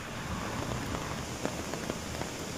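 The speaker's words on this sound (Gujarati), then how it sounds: "ડાંગ જિલ્લામાં પડી રહેલા અવિરત વરસાદને કારણે" Heavy, unrelenting monsoon rain pours down in Saputara, a hill station in Dang district, Gujarat, a dense loud hiss with scattered splashing drops and no voices.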